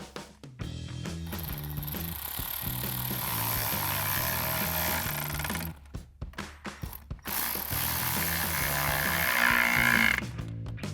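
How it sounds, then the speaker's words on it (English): Intake clamps on a 2014-2019 Corvette C7 cold air intake being tightened with an 8mm socket on a ratchet, giving repeated close, rapid clicking runs with short pauses between them. "you can now tighten up your clamps with your 8mm socket"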